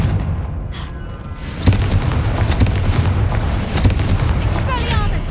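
The Confringo blasting spell going off in the Hogwarts Legacy game, a dull booming blast amid rumbling combat noise, with a few sharper impacts layered over the continuous din.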